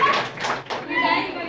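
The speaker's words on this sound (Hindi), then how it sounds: "जोरदार हो तालियां इनके लिए।" Applause from an audience at a school prize distribution ceremony for class XII arts students, a dense patter of clapping mixed with talking voices, close and moderately loud.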